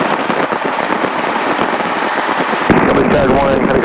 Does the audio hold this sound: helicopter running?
yes